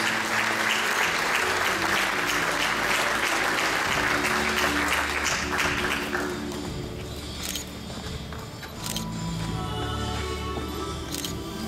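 Audience applause at a closing ceremony where oil paintings are presented to families: dense, sustained clapping from a crowd that eases off partway through, with a few faint camera clicks.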